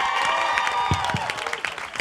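Fans cheer and clap at an American Gods cast event, a dense, steady wash of crowd noise with whoops rising over the applause across the moment.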